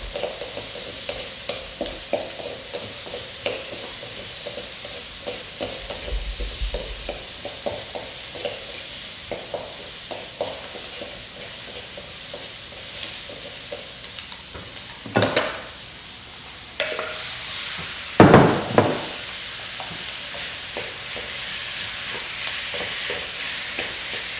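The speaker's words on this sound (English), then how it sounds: "just when the onions start to get a little bit tender, I'm going to add the beef" Beef and tender onions fry in a pan with a soft, steady sizzle, broken by occasional stirring scrapes and a few sharper clatters of a utensil near the end, close and without talking.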